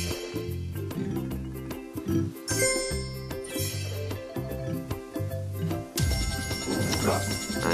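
Bells jingle and chime in a winning sequence on the Tiki Fruits Totem Frenzy slot machine, a busy run of bright tinkling dings over game music, with a rising sweep near the end.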